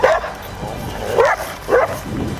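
A dog barks at passing cyclists on children's bikes, giving a string of loud, close yaps and yelps in an uneven rhythm, with some commotion around.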